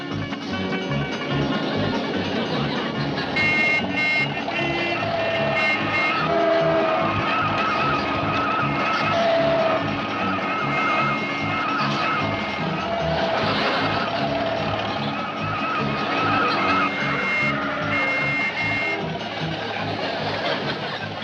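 A car speeds along with a continuous loud engine roar and repeated tire squeals as it skids through a chase in a TV comedy, the noise steady and dense for the whole stretch.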